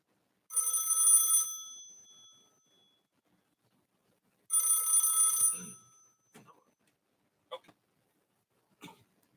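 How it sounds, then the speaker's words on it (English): An old landline telephone's bell rings in two loud, bright metallic bursts about four seconds apart, each trailing off, followed by faint scattered clicks and brief noises in an otherwise quiet room. "I forgot to disconnect the phone."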